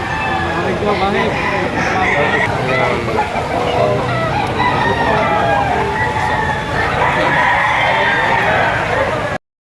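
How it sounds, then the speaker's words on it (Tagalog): Several roosters crow and cluck continuously at a crowded Padre Garcia, Batangas market in stormy weather, layered calls rising over dense background chatter and a nearby voice. "Napakamurang manok nito"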